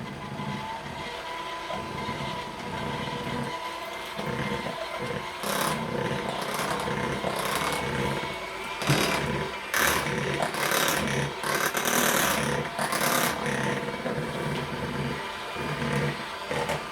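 An electric mixer runs on speed 1 through waffle batter in a bowl too small for it, giving a steady whirring motor drone with repeated scraping bursts and knocks as the beaters hit the sides, loud and close, with no talk.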